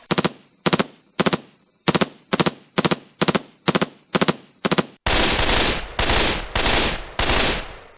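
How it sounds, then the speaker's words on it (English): An L3 Nozzlenose in the Splatoon video game fires loud, sharp three-shot bursts in a steady repeating rhythm, followed by a denser, continuous stretch of rapid spraying shots, with no talking. "Here's the L3 Nozzle Nose firing in Splatoon."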